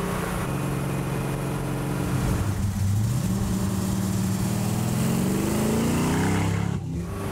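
A high-powered 1960s Mercedes engine drones at about quarter throttle while driving, a loud, steady low rumble heard from inside the car, with rising and falling tones as speed shifts, then a brief drop near the end.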